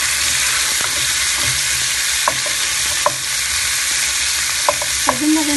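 Pork for humba frying in oil in a pan, a constant close sizzle with occasional stirring scrapes and light utensil clicks.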